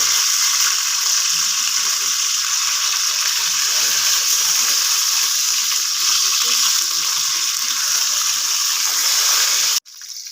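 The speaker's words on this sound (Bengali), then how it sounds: "সরষের তেল গরম করে লবণ হলুদ মাখিয়ে মাছগুলি ভেজে নেব।" Fish coated in salt and turmeric frying in hot mustard oil, a steady, close, loud crackling sizzle that holds without pause for about ten seconds before cutting off abruptly; no talking over it.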